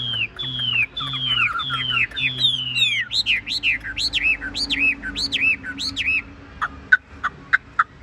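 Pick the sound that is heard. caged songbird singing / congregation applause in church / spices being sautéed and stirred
caged songbird singing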